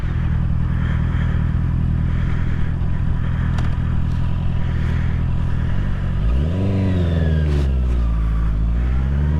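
A 2021 Honda CB650R motorcycle engine with a cutting-out fault idles loudly and steadily, then revs up and down in a few rising and falling sweeps, close and alone apart from a brief spoken word.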